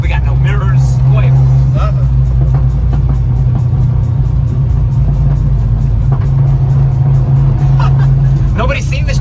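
A lowered Datsun Sunny Truck with an aftermarket exhaust drones loud and close while driving on the road, a steady deep engine rumble with occasional tire noise, as people inside talk over it.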